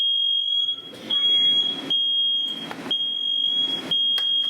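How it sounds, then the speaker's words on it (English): A smoke alarm goes off in a kitchen while a London broil steak is cooking: a loud, piercing, high tone sounds almost continuously with short breaks, over bursts of clattering and rushing noise. "now our fire alarm is going out."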